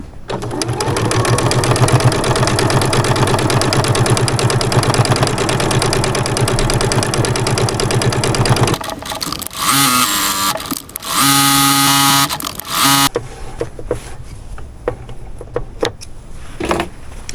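A sewing machine with a regular presser foot runs fast and steadily for several seconds while quilting, then stops and starts in shorter bursts with pauses and handling noises between them.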